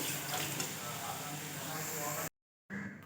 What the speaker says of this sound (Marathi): गोल्डन कलर येईपर्यंत आपल्याला हे तळून घ्यायचे आहे।